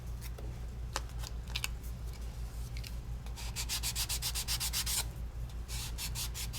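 An emery board rubs straight across the edge of a paper slat in quick, scratchy strokes, close and fairly quiet, sounding like light sanding, with no talk.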